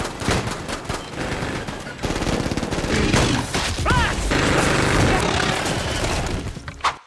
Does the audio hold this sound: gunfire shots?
yes